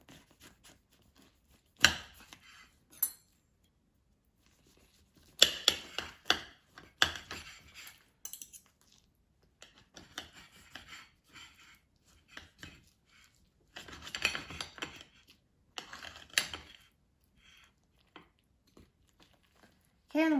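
A knife slices through a whole, soft, perfectly cooked air-fried spaghetti squash to halve it, giving close, intermittent bursts of crunching and scraping separated by quiet pauses.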